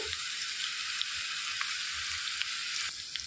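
Drumstick and cucumber pieces fry in hot oil for a spicy Andhra-style curry, a steady, close, hissing sizzle throughout with faint stirring ticks.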